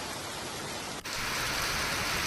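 Rain falls steadily in Halol taluka, a broad, even hiss of rainfall that breaks off for an instant and then continues slightly louder.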